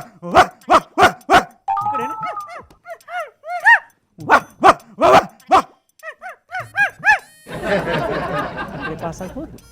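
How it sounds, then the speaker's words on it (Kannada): A male dog barks in short repeated bursts, several sharp barks in quick succession alternating with people talking, then a stretch of noisy crowd sound at the end. "ಮತ್ತೆ ಗಂಡು ನಾಯಿ"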